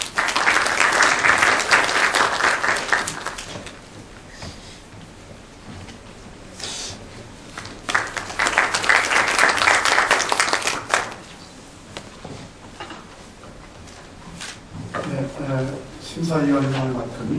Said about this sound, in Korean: 박수 와주시기 바랍니다.